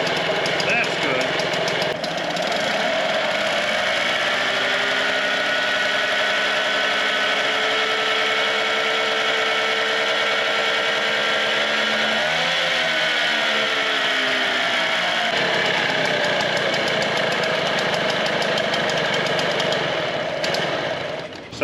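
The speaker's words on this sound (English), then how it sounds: "So I think we've got a functional outboard at this point." A small mini outboard boat motor runs steadily, a close, buzzing drone that holds for about twenty seconds with a brief shift in pitch partway through.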